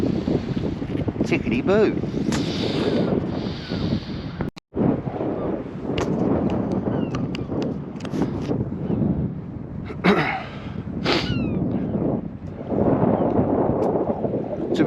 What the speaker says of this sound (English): that wind's quite light